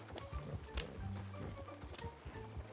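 Horse hooves clip-clop at a steady walking pace in a video game, fairly close and continuous, with low game music or ambience underneath and no talking.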